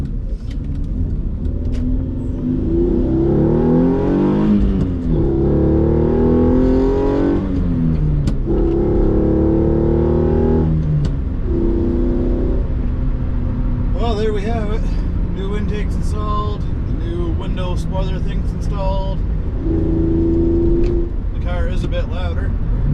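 Hyundai Genesis Coupe fitted with an AEM cold air intake, driven on the road: repeated engine revs rising through gears with shifts between pulls, loud and close, with occasional brief talk over the drive.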